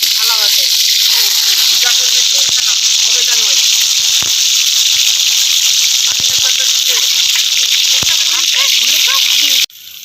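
Peeled boiled eggs fry in hot oil in a pan at an outdoor picnic, giving a loud continuous sizzle and hiss with scattered pops and crackles throughout, while people talk over it; the sizzle drops off sharply at the end.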